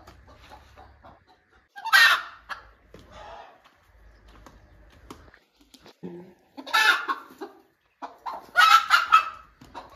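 A hen clucks in short bursts near a clutch of eighteen eggs being set for hatching, with a few louder squawking calls standing out against a quiet farmyard background.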